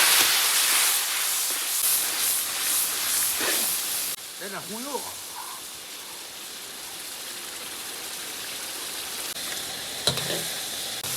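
Ginger strips and chili flakes frying in hot oil in a wok give a loud, steady sizzling hiss that fades after a few seconds. A voice then speaks over quieter background crackle.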